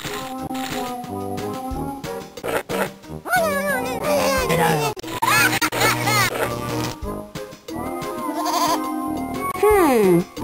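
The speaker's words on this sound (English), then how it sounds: "Hey, it's a goat!" Goat bleats from the Putt-Putt Joins the Circus video game come in wavering, cartoonish cries. They repeat several times over busy game music and sound effects, with character voices speaking throughout.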